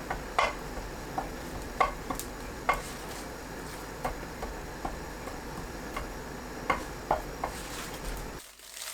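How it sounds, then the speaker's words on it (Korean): Dried seaweed sheets roast in a pan with faint, sparse crackles and ticks over a low, quiet background hiss. "김을 구워주세요."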